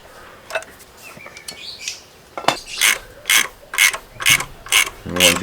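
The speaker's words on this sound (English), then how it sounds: "once you've broken them loose with the power bar, you can just ratchet them off" A ratchet wrench with a 15 socket spins the nuts off an engine bracket on a Ford Bantam 1.3i ROCAM during a head gasket teardown; after a few scattered clicks, a loud, close run of about six rhythmic ratcheting bursts.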